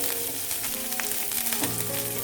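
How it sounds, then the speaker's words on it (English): Shallots, curry leaves and red chilies sauté in a pan, giving a continuous even sizzle close by with faint stirring, no talk over it. "Now we are adding 3-4 shallots, few curry leaves and 2 red chili. Just saute it for a minute or so."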